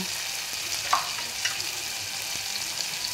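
Tomato, ginger-garlic paste, turmeric, spice masala and salt sauté in a pan, a faint steady sizzle with a couple of light stirring clicks, quiet and without voices.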